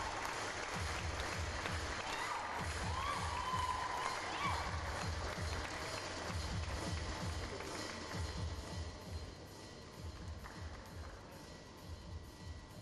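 Sustained audience applause at a Billie Jean King Cup tennis tie, India versus Korea Republic, honoring the ball kids; steady dense clapping throughout, slightly fading toward the end.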